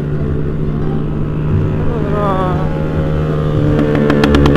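Motorcycle engine and exhaust droning loudly and steadily on a night ride, with a bike nearby under a rising whine and a short burst of rapid popping from the exhaust near the end.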